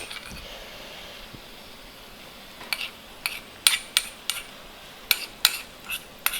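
Tempering spices (phanna) crackle in a cast-iron pan, with sharp, irregular pops that begin partway through and stand out over a faint, steady background hiss.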